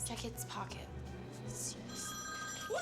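A phone rings from inside a dead man's pocket, repeated electronic ringtone bursts sounding through and over people talking nearby.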